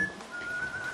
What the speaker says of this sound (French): Ne siffle pas